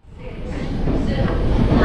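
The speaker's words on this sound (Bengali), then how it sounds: "হরিদ্বার ছেড়ে ট্রেন বেরোচ্ছে এবার অন্তিম স্টেশন দেরাদুনের উদ্দেশ্যে।" A train pulling out of Haridwar station bound for Dehradun, a low rumbling roar that builds steadily louder over the clip, with no clear speech.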